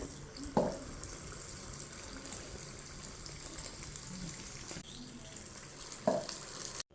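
Neyyappam batter fries in hot coconut oil, giving a continuous soft sizzling hiss with a couple of sharp clinks from the ladle near the start and end.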